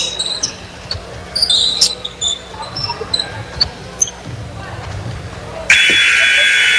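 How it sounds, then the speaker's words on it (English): At the end of a girls' high school basketball game in the Ozark Mountain Conference, a loud sustained final buzzer cuts in near the end, following scattered ball bounces, shoe squeaks and gym crowd noise. "And that is your final buzzer, Matt."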